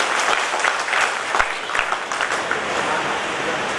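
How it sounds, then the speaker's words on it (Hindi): Seminar audience on healthy living claps loudly and steadily, a dense, sustained wall of many hands with no letup throughout. "जोरदार ताली अपने के लिए अपने परिवार के लिए"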